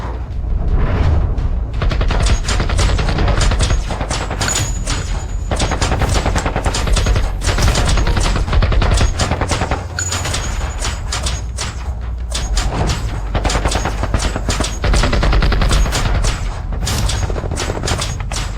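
Sustained gunfire in a fight, with dense bursts of loud, rapid shots and cracks going on without a break, harsh and close, with no voices.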